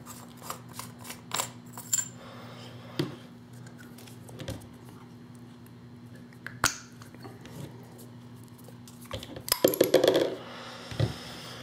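Dangerous Power G4 paintball marker being taken apart, scattered close metallic clicks, taps and small clatters of parts at irregular intervals, with a busier cluster of rattling near the end.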